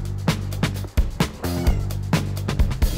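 A domestic cat meows clearly up close, one drawn-out call amid several short sharp sounds and thumps nearby, with no one talking.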